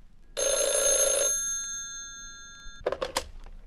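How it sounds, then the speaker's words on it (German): Old-style telephone bell ringing, one bright metallic ring lasting about a second, then a short burst of quieter rattling rings after a pause, close and clear in a quiet room. "Nun läutete das Telefon."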